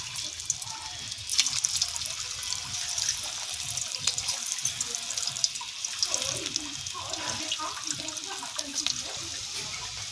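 Soybean kofta balls drop one at a time into hot white oil, producing an uneven crackling sizzle with scattered pops at close range.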